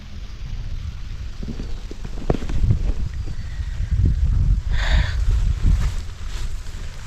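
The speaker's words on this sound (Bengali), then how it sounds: "অনেক সুন্দর বৃষ্টি হইতেছে" Rain falls steadily on a garden, a dense continuous patter with low rumbling texture that grows somewhat louder midway, no voices present.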